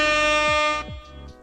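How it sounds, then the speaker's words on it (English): A loud, sustained air horn sound effect blares for most of the moment, then cuts off abruptly, leaving a quieter tail of low rumble. "Here we go. Air horn, 762."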